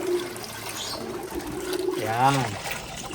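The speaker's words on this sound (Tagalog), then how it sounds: "lagyan natin ng tubig." Water poured into a basin to bathe pigeons on a hot day, a steady close splashing trickle running throughout, with a brief spoken word near the end.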